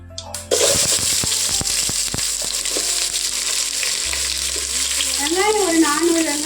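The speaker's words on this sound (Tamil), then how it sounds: "பிரியாணி இலை போட்டு வெங்காயம் போட்டுக்கலாம்." Onions drop into hot oil with a bay leaf for chicken biryani, setting off a sudden loud sizzle that holds steady under clattering stirring, with a brief squeak-like sound near the end.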